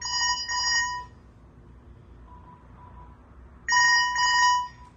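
A Panasonic KX-TG262B cordless phone handset rings after its base locator button is pressed, giving two loud bursts of bright electronic trilling separated by a few seconds of quiet room hum.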